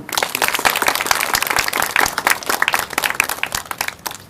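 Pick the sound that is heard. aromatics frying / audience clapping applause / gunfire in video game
audience clapping applause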